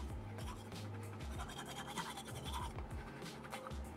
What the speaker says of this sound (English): So let's brush our teeth.